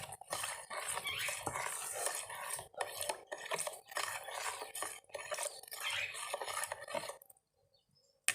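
Olives with red pepper, garlic and coriander are stirred in a bowl, a close, busy clatter of spoon scraping and clinking in steady strokes that stops abruptly near the end.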